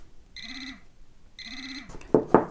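A Quest Scuba Tector Pro multi-purpose metal detector sounds its detection alert: two clear electronic beeping tones, each about half a second long, followed by a couple of short handling clicks, close and alone.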